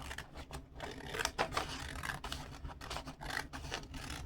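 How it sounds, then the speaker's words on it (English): Scissors snipping through a sheet of paper for a paper dragon craft, a run of close, crisp rasping cuts in uneven bursts with short pauses between strokes. "I cut on this line right here down the middle with scissors"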